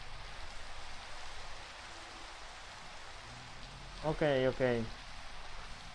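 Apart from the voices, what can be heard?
rain falling in a video game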